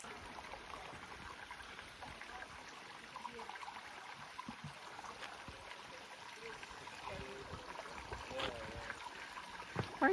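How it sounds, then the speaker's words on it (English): A tiny trickling waterfall beside a spring on a mountain trail in Guadalupe Mountains National Park gives a faint, steady wash of running water that continues throughout, with a few small rustles near the end. "This little serene spot next to the first spring, this tiny little trickling waterfall"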